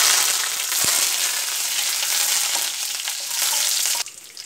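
Curry leaves hitting hot oil with popped mustard seeds for Kerala kadala curry, a loud continuous close sizzle and crackle that drops away sharply near the end, with one brief knock early on; no voices.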